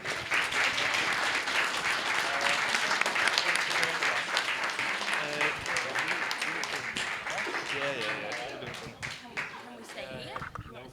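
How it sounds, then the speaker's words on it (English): Wedding guests at the reception give a round of applause for the bride and groom, sustained clapping that holds loud for most of the stretch and tapers near the end, with voices mixed in. "Can we have a round of applause, please?"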